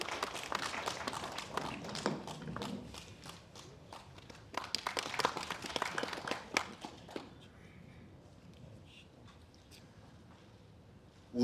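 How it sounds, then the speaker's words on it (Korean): A memorial ceremony audience applauds in a hall, a soft, spread-out clatter of clapping that runs for about seven seconds and then fades to quiet room tone. "박수로 맞으시기 바랍니다"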